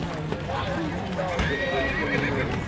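A bay horse at a horse show, a close neigh and whinny mixed with clip-clop hoofbeats while people talk nearby.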